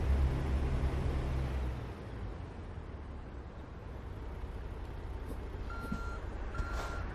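Reverse warning beeps from a truck backing up a trailer in American Truck Simulator, short repeated tones in the second half over a steady low engine rumble and road noise, no talking.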